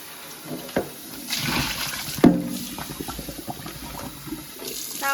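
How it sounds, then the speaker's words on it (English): Running tap water splashing over a non-stick air fryer basket scrubbed with a non-abrasive sponge and dish soap, a steady close-up rush with occasional knocks and scrapes from the basket. "So just wash it the same way as a non-stick pan. A non-abrasive sponge and dish soap"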